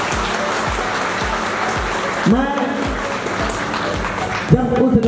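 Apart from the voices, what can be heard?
audience applause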